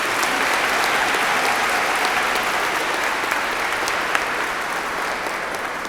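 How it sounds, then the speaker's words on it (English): An audience in a church applauds young men standing during a homily, a dense, even wash of clapping that holds steady at full strength for several seconds with no talk over it. "And could you give them a round of applause,"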